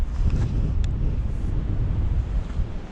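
Blustery wind roars across the microphone of an e-bike ridden in stormy weather, a steady, loud low rumble with a small brief squeak partway through.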